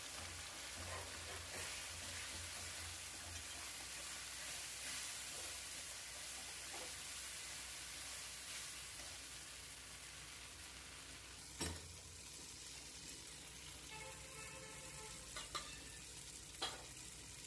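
Spice masala with salt, turmeric and Kashmiri chili paste fried and stirred in a pan, a low steady sizzle with occasional scraping strokes and a few sharper clinks toward the end.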